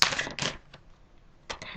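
Tarot cards drawn from a deck by hand, heard as a few quick papery snaps and slides, with a short burst at the start and another near the end, close and fairly soft, with no voice.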